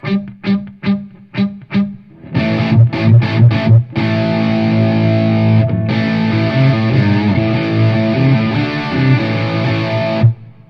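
An electric guitar runs through an EarthQuaker Dispatch Master pedal with reverb: a few short staccato chord stabs, then fuller sustained chords that ring and wash out, loud and close, with no speech.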